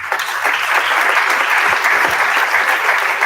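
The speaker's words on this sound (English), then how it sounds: "Please a big round of applause for him." An audience at an international conference at Akwa Ibom State University claps loudly and steadily in a dense wash of applause lasting a few seconds.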